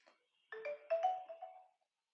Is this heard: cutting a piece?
no